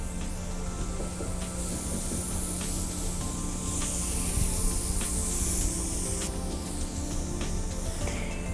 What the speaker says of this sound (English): Remember when you're spraying foundation to be 6 inches away, and the makeup should be drying on contact.